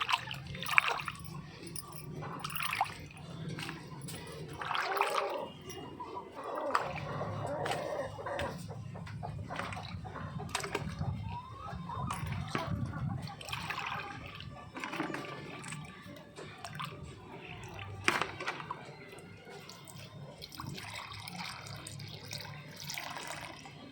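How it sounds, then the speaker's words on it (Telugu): Water splashes and pours as tubs are emptied and refilled in a backyard poultry area, intermittent sloshing and trickling near at hand with hens clucking around it. "వీటిలో కూడా వాటర్ మారుస్తున్నాను చూడండి"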